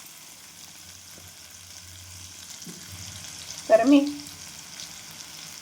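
Green chili paste and chickpea leaves frying in hot oil, a soft steady sizzle with a short burst of louder stirring and scraping near the end, close by, under a few spoken words.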